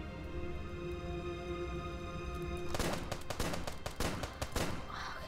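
Video game gunfire in Starbound, a sustained burst of rapid shots over the game's background music, loud and close, breaking out partway through after a stretch of music alone.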